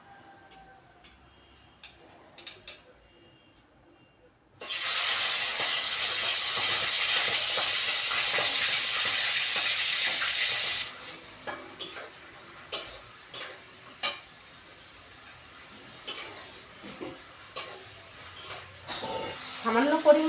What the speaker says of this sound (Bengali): আমাদের তেলটা গরম হয়ে গেছে, এবার চিংড়ি মাছগুলো ছেড়ে দিচ্ছি।